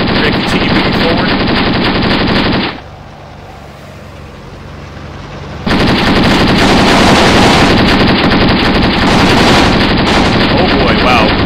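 Sustained bursts of machine gun fire in a Graviteam Tactics battle against Mujahideen fighters, loud and dense for several seconds, then a brief lull with distant rumble, before the heavy continuous firing resumes.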